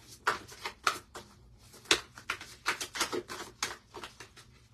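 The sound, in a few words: shuffling tarot cards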